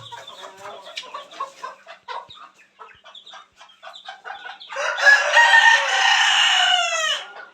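A rooster crows loudly and close at a roadside chicken shop in India, after a stretch of quieter clucking and shuffling from the caged birds.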